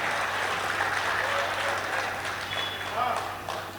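An audience applauds at a Hindi comic poetry gathering, steady close clapping filling the hall for the whole stretch and tapering slightly at the end, with voices mixed in.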